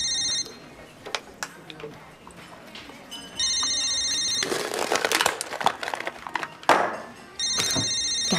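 An electronic telephone bell rings in repeated bursts, loud and close, with knocks, shuffling and other sounds in between.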